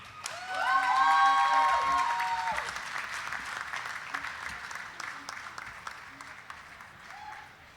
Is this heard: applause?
yes